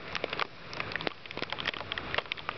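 Heavy rain pours down on a street and parking lot at night, a dense steady patter with scattered sharper drops, fairly faint and continuous throughout.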